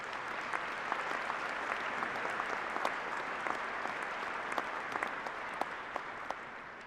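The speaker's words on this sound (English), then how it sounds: "Let's please give them a big round of applause as well." A large crowd at a university fall commencement gives a big, sustained round of applause, dense overlapping claps with a few sharper individual claps standing out, steady throughout with no talk.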